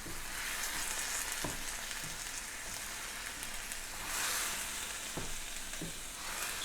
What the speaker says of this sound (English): I'm just going to let this cook down until the eggplant's nice and soft all the way through